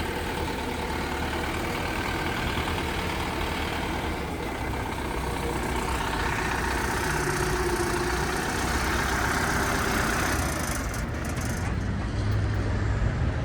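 The engine of a Sintay 500 mini tractor runs at a steady idle for several seconds, a continuous mid-pitched rumble heard close up with no voices.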